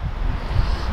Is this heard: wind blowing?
yes